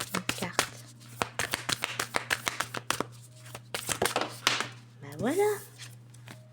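Oracle cards are shuffled by hand in quick riffles and taps, a run of close, crisp flutters with short breaks as a card is drawn, then someone speaks briefly in French.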